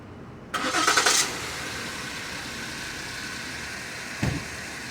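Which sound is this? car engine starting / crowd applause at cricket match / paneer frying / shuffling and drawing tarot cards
car engine starting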